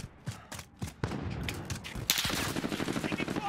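Rapid automatic gunfire from an LMG and an M4 in Call of Duty: Modern Warfare multiplayer, with scattered single shots building into a dense sustained burst of close, sharp reports and no talk.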